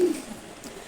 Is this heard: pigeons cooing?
yes